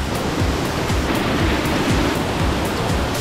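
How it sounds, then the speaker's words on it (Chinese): Water spilling down a small waterfall at Dexing Waterfall in Lugu, Nantou, a steady, full rushing roar that holds at an even loudness throughout, with no voices. "应该是这个小瀑布吧"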